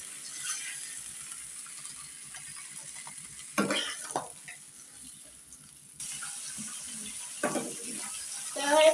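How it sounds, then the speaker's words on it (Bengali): Fish pieces fry lightly in oil in a pan, giving a steady close sizzle and hiss, with a few louder bursts where the pieces are stirred or turned. "এগুলো আমার ভাজা হয়ে গেছে অল্প করে ভাজছি বেশি ভাজবো না"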